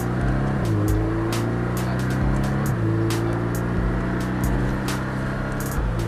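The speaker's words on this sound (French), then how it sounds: "Allez, on accélère progressivement." A Porsche Cayman S accelerates on the Castellet circuit, its engine pulling loudly and steadily up through the revs with gear changes, heard from inside the car.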